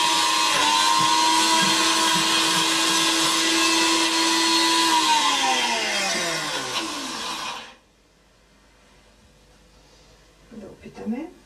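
A Bosch MMB 6174S blender blends soup with added salt and pepper: a loud, steady high motor whine that holds for about seven seconds, then falls in pitch and cuts off, leaving quiet with a few faint clinks after.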